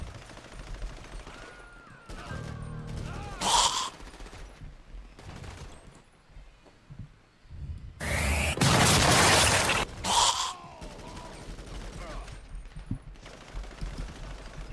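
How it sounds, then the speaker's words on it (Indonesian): Bursts of gunfire in a zombie survival video game, loud volleys of rapid shots broken by quieter stretches, with faint voices in between. "Ada yang nembak di atas"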